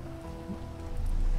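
Rain falls in the video game GTA 5 as a soft, steady patter under a faint electrical hum, growing louder toward the end with a low rumble.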